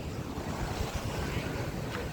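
Sea waves wash and rumble continuously in open air off the coast near Dwarka, mixed with strong wind buffeting the microphone, loud and close for a couple of seconds.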